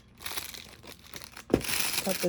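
A craft piece cut down by hand, giving close crinkling, crunching cuts with a louder burst partway through. Faint talk sits underneath.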